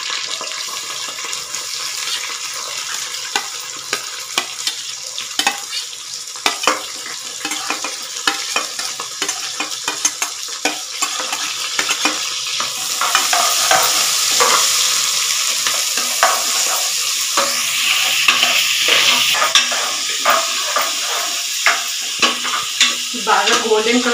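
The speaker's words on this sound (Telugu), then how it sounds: "బాగా గోల్డెన్ కలర్ వచ్చేంత వరకు ఫ్రై చేసుకోవాలి" Onions and green chillies frying in oil, a loud, dense sizzle with constant stirring scrapes and clatter, swelling stronger midway.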